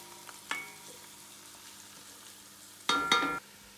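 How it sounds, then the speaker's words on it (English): Ginger with garlic sauteing in a pan for bobotie, a quiet steady sizzle broken by two brief louder scrapes or stirs near the start and a louder burst of stirring toward the end, no talking. "and your ginger and saute for 1 or 2 minutes until it is nicely"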